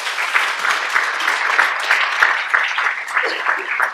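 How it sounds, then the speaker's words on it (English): An audience at a talk on an ALD vitamin D study claps for supporting families, giving a close, fairly loud burst of scattered applause with a slightly uneven rhythm. "maybe a round of applause for these families"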